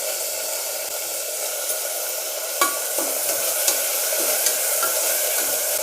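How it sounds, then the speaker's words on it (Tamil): Chopped onions and tomatoes sauté in a pan for a hotel-style veg salna, giving off a loud, steady sizzle close up. A few light utensil taps break the constant hiss, and nobody speaks. "இப்போது இது நல்லா வதங்கட்டுங்க."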